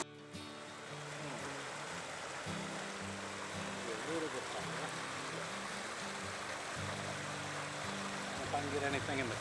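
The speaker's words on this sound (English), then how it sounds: "Some running water down there." Running water of a stream below an outdoor vantage point, a steady, soft rushing wash heard from some distance, with someone talking over it.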